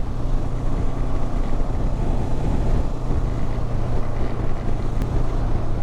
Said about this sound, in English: The bike's accelerating very well, very smooth.